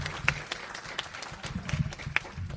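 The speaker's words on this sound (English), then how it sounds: "I'm glad that people participated and clapped and all that" An audience claps at a Washington State Juneteenth celebration, scattered hand claps of moderate loudness with a few sharper individual claps and faint background murmur.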